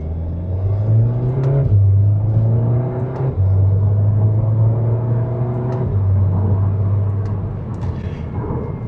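A turbocharged Cadillac CTS with a blow-off valve pulls hard under spirited driving, engine droning loud and close as it climbs to about 4,000 rpm, then briefly dips at each gear shift before rising again.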